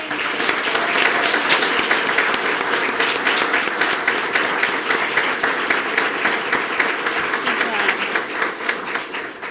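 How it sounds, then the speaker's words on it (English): Sustained, loud applause from an audience at a police department awards ceremony, a dense steady wash of many hands clapping close by for nearly ten seconds, with voices faintly mixed in. "I think they all deserve another round of applause, aren't they?"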